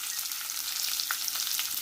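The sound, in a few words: chopped onions and green chillies frying in a pan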